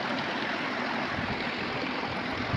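A waterfall stream flowing outdoors, a steady, even rush of water that fills the whole clip at a moderate level with no pauses.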